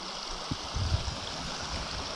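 A Pennsylvania trout stream runs shallow in a snowstorm, a steady, soft broadband rush of flowing water with a few faint bumps and splashes, no voices present.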